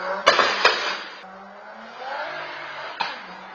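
Sharp, cracking two-step launch-control pops burst from a car exhaust, two in quick succession and then one more, over a steady engine drone.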